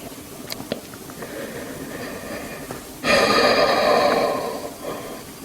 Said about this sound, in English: A little bit more restricted breath on this one.